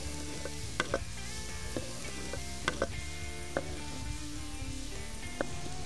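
Vegetables sizzle in a frying pan while being stirred, a steady hiss broken by a few sharp clicks and scrapes of a utensil against the pan, fairly quiet and with no one speaking.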